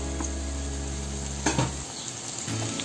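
Tomato, onion and ginger-garlic masala fry in a little oil for kardi masala, giving a close, continuous sizzle with a few quick stirring scrapes and faint utensil clinks over soft background music.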